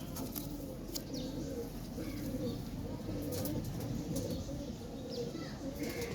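Low, rounded pigeon coos repeat steadily among a flock of Kabli pigeons, close and fairly loud, with faint chirps and a little wing noise over a constant background murmur.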